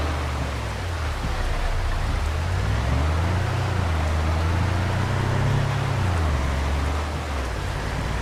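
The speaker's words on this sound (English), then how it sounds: "it's going to rain probably till 5, maybe 6 o'clock" Steady rain falls in Farming Simulator 25 on a Louisiana farm map: a continuous, fairly loud hiss with a low rumbling hum running underneath the whole time, and no voices.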